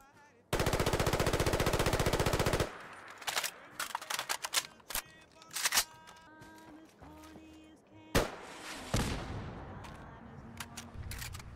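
Rapid automatic fire from a FAMAS bullpup assault rifle in Fallout 4 bursts loudly for about two seconds, followed by scattered mechanical clicks, clanks and reload-like handling noises, then a whooshing rush.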